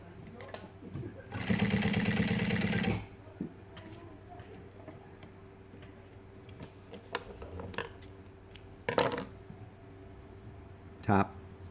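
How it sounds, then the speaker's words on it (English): A Juki DU-1181N walking-foot sewing machine runs a short stitching burst through a single layer of hard leather, a dense rapid whir lasting about a second and a half, followed by faint handling clicks and taps. "I'm just going to sew through one layer to see how it sews."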